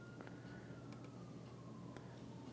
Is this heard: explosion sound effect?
no